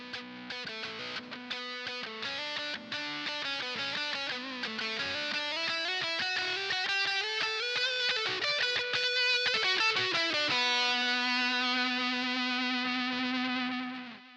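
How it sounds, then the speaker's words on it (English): An electric guitar solo with distortion and echo, running up through fast bending phrases before settling on a long sustained note that fades. "we have a guitar solo that comes in"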